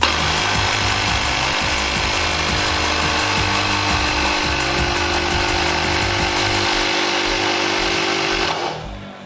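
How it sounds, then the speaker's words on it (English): A pump inflating an electric scooter tyre, such as an E-Glide G60 or Levy, to 50 through an extension hose: a loud, continuous mechanical whir with a rapid pulsing chug underneath that runs steadily, then cuts off abruptly at the end. "so I'm going to pump it up now to 50."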